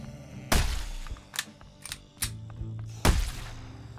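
Separate sharp gunshots in the zombie game Whiskey & Zombies, about five spaced cracks of varying loudness with quieter game noise between them.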